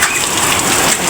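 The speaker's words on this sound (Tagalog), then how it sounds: "Lakas ng ulan." Heavy rain pours down steadily, a dense, loud hiss of drops drumming on surfaces with no pauses and no voices.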